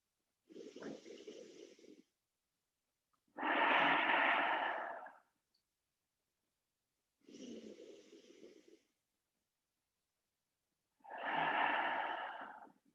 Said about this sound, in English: we'll close this practice as we began with 3 deep breaths